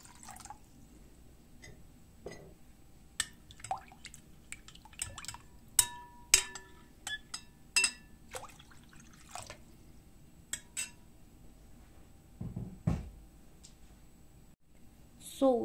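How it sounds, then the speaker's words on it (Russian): Filtered water poured over meatballs in sauce, a quiet run of small splashes and drips scattered through the stretch with a fuller pour near the end, faint and close with no talk. "разбавлю его водичкой прямо из фильтра и залью свои тефтельки"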